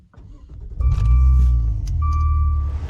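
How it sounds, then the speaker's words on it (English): A Maserati Ghibli engine cranks and fires up, a deep rumbling start that surges and then settles into a loud steady idle, with a chime sounding inside the cabin. "let me start the car up and show you what I'm talking about"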